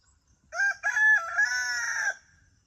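Chickens in a newly set-up large backyard coop, with one bird giving a loud, close rooster-style crow lasting about a second and a half, preceded by a short call, then quiet.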